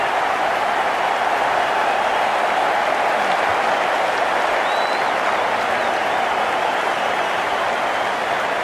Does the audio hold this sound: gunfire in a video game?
no